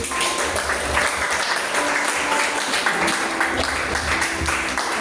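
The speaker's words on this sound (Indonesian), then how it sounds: "beri tepuk tangan dulu untuk Tuhan Yesus" An audience at a 2023 ninth-grade graduation at SMPTK Karunia Hidup, a Christian school, breaks into sustained applause, a full, continuous clapping of many hands with faint music tones threaded underneath.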